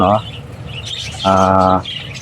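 Pet parakeets chirp in two bright, harmonic bursts, one short and one longer, loud and close, with quieter chatter between.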